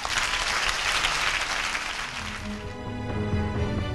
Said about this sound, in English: I thought you clap for Jesus.